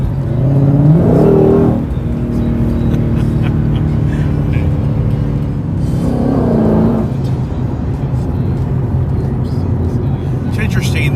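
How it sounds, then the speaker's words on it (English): A loud muscle car, a Challenger Redeye or Mustang GT500, driven on back roads with a deep exhaust rising in two strong acceleration pulls over a steady engine drone, with a voice talking over it. "And the exhaust sounds really good."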